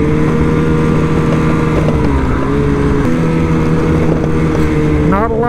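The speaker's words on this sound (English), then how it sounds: "been out here with tracks on a four-wheeler." A tracked four-wheeler ATV rides near Cantwell, Alaska, its engine droning loud and steady with a constant low rumble and slight pitch shifts, rising in revs near the end.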